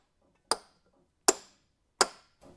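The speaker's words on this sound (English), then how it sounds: "couple smacks with a dead blow hammer really" Three separate heavy smacks from a dead blow hammer knock loose a stuck timing belt part on a Volkswagen Golf/Jetta TDI MK6 engine, spaced well apart, close and crisp, with a faint fourth tap at the end.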